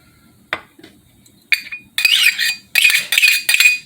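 A metal spoon clinks sharply against a small bowl while stirring olive oil and vinegar into a dressing for a cucumber, tomato and red-onion salad, with a single tap and then a quick run of bright, close ringing strikes.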